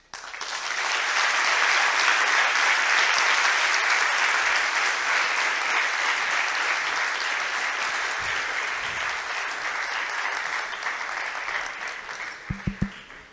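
Sustained audience applause after a talk on gravitational waves, a dense wash of clapping that starts abruptly, holds steady for over ten seconds, then thins into a few scattered claps.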